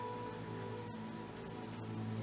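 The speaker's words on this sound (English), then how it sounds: "Oh yeah, it is raining right now." Steady rain falls outdoors, a continuous even hiss of drops with a low constant hum beneath; no one speaks.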